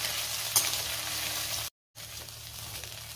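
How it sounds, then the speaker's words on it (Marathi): Soya chunks frying in hot oil until golden brown, a dense continuous sizzle close up with a brief clink near the start and a short cut partway through, no voices. "आता तेलामध्ये मी सोया चंक्स छान लाल होईपर्यंत परतून घेणार आहे"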